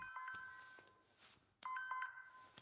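A telephone rings in a police station with two bursts of electronic ringing, the second louder and closer after a brief pause, with no talk over it.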